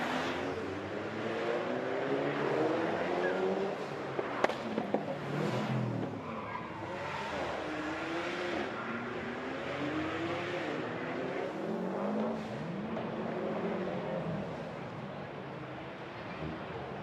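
Privately owned cars, including a 2006 Maserati, run a cone course at a Victoria Park motorsport event, engines revving and tires squealing through repeated turns, a busy mix of accelerating and skidding cars at moderate distance over the full stretch.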